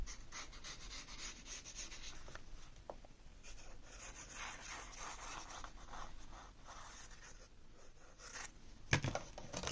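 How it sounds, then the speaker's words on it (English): Paper envelope flaps being glued and pressed down on a 6x6 paper craft project, with quiet close rubbing and scraping of paper under the hand, soft and steady with a small tap near the end. "So now I can actually add glue to these flaps so that I can secure the entire"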